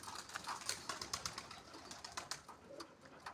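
A pigeon with an infected, watery eye coos faintly amid soft background hiss, its low murmuring calls coming in short uneven bursts with no talk.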